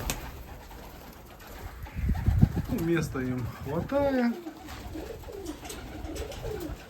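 Pigeons coo softly in low throaty bursts close by inside a pigeon loft, while someone speaks over them.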